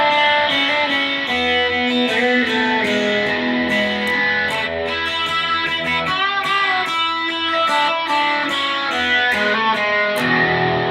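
Distorted electric guitar played on a Godin 5th Avenue, a dense, sustained chordal wall with effects coloring, continuous and loud throughout with no talking.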